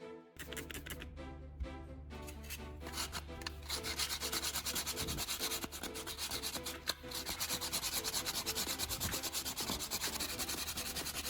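Steady hand sanding across a repaired plastic piece, a continuous close scratching rub with slight rhythmic strokes throughout, fairly quiet and with no voices.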